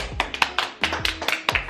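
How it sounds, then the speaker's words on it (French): A few people nearby clap their hands in an uneven, sparse round of applause, the claps close and sharp, with no voices over them. "On peut l'applaudir, applaudissez-la."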